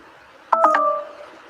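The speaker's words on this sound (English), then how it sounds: "Oh, looks like my phone is about to run out." A phone gives a low-battery warning, a short clear electronic beep of a few quick tones that ring out briefly over a quiet room.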